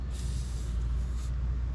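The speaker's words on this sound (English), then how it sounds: "I'm gonna spray some Croil down on this thing now" A steady, close hiss of penetrating oil aerosol spray held for a couple of seconds over a low background rumble.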